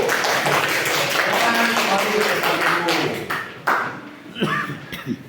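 Classroom students clapping for a group, a busy patter of many hands that fades after a few seconds into scattered taps and voices talking.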